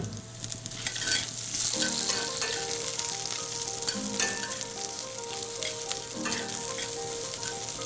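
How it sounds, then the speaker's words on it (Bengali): Chopped onions frying in hot oil with a bay leaf for a Bengali prawn and taro dish, giving a loud continuous sizzle under repeated stirring scrapes, close up and with no voices. "পেঁয়াজটা বাদামি হওয়া অবধি ভাজতে থাকবো।"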